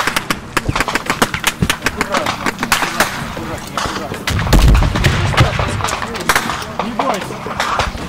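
Machine gun firing in a war film set in Ukraine, rapid bursts of sharp close shots with heavy booms and battlefield noise, under shouted voices.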